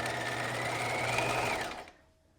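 A sewing machine stitches a knit neckband on a jewel-neck top in a steady, close, continuous whir that runs for about a second and a half, then slows and stops, leaving a faint hum.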